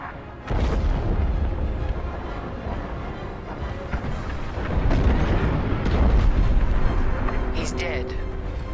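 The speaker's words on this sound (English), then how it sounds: "The frigate is about to explode!" A frigate explodes in the Star Wars Squadrons space-combat game: a sudden loud boom swells into a long, heavy rumbling roar that rises again midway. Voices speak over the blast.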